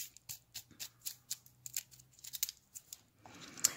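A taped-up birthday box is pried and pulled open by hand, a quick series of sharp tearing and scraping bursts close by, uneven in rhythm, with crinkling toward the end.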